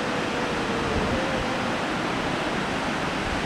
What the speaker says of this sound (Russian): На море сильный ветер.